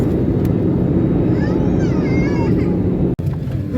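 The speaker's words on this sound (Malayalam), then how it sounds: "എനിക്ക് തോന്നുന്നു നമ്മൾ ലാൻഡ് ചെയ്യാനായെന്നാണ്." Cabin noise from inside an Air Arabia airliner landing at Calicut: a steady low engine and airflow roar with rising whines, ending in a brief jolt and dropout.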